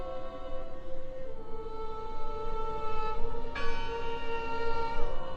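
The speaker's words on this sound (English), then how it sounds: "Listen! The bell! They're still in there!" A bell rings in the video game Draugen, a sustained, resonant tone with shimmering overtones that swells and is struck again midway, heard alone with no talking.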